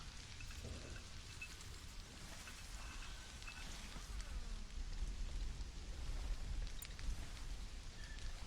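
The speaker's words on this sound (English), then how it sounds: "Raining, which means it's starting to warm up a little bit." Steady rain in the video game Stranded: Alien Dawn, a constant dense patter with scattered drops, unchanging and moderately loud throughout with no voices.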